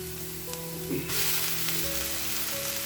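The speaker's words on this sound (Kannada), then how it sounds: "ಇವಾಗ ನಾವು ಸಣ್ಣದಾಗಿ ಕಟ್ ಮಾಡ್ಕೊಂಡು ಇಟ್ಕೊಂಡಿದ್ವಲ್ಲ ರಾಜಗಿರಿ ಪಲ್ಯ, ಅದನ್ನ ಹಾಕೊಳ್ಳೋಣ" Chopped amaranth greens drop into hot oil with browned onion tempering, setting off a loud, steady sizzle that flares up briefly and keeps crackling close by.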